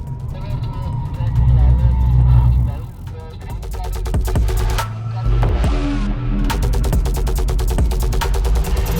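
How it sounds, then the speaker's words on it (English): A Skoda Octavia RS runs flat out on a race track's back straight at over 200 km/h, loud sustained engine and wind roar with shifting tones, while someone talks over it. "I'm on the back straight doing about 210 kilometers per hour right now."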